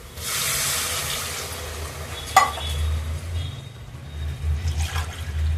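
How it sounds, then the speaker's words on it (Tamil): Coconut milk poured by the tumbler into a pot of rice for coconut milk rice, a steady close splashing pour with one sharp clink partway through and a faint sizzle underneath; no talking. "தேங்காய் பால் ஊற்றிக்கலாம் ஃப்ரெண்ட்ஸ்"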